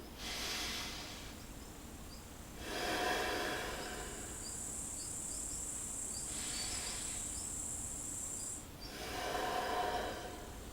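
Slow, deep breaths during a yoga exercise: long airy inhales and exhales alternate in a calm, quiet room, a faint high whine underneath.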